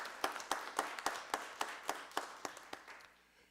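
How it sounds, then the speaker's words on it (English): Steady applause from a crowd at a county board of commissioners meeting, a brisk run of claps with sharp regular peaks that thin out and fade toward the end. "Give the mayor another round of applause if you would."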